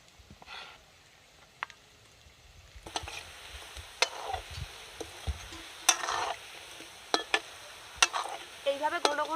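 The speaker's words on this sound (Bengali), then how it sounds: "এইভাবে ঘন ঘন নেড়ে নেড়ে ভেজে নিতে হবে" Soya gulab jamun balls frying in oil, a quiet sizzle that grows with intermittent sharp clinks and scrapes as a utensil stirs the pan close by.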